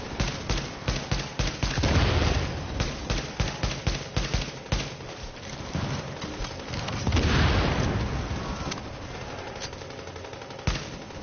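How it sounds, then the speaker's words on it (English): Rapid incendiary-bullet gunfire rattles nonstop at an armored personnel carrier in a video game, dense automatic bursts with heavier booming impacts swelling twice, loud and close throughout. "Shoot the APC? Yeah, with incendiary bullets."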